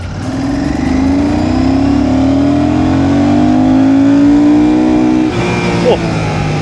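A motorcycle engine revs upward steadily in second gear, pitch climbing for several seconds, then briefly drops as it shifts before pulling again, loud and close.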